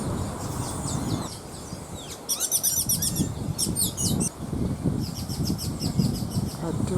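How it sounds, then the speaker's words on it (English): Birds nesting high in a tree in a remnant mahogany grove in Barbados chirp in quick bright bursts, clustered bouts of tweets repeating over a low, rumbling outdoor background. "Look what kind of birdies we have. They've got nests up there."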